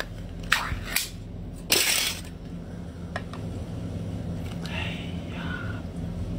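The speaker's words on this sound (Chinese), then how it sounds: "开一罐大爆头。" A can of beer is cracked open at a mukbang of live octopus, king crab and lobster, giving a sharp pop and a fizzing hiss over a steady low room hum, with a few short clicks and light handling sounds around it.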